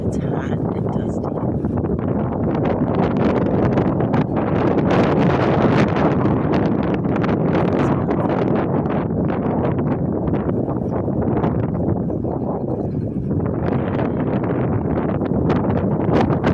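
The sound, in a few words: strong wind blowing by a river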